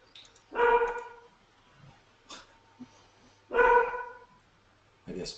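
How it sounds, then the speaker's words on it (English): Several dogs barking in short bursts, two loud clusters of barks a few seconds apart with quieter yelps and breaths between, heard over a steady low hum. "I guess multiple people's dogs are going crazy."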